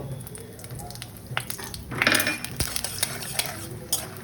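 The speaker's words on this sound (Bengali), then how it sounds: "কড়াইতে তেল দিয়ে দিয়েছি তেলও গরম হয়ে গেছে এখন আমি এই বাদামগুলো ভেজে নেব" Peanuts fry in hot oil in a wok, giving a soft sizzle that swells midway, with sharp clinks of a metal utensil against the pan close by.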